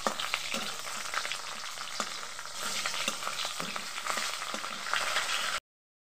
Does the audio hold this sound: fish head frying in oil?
yes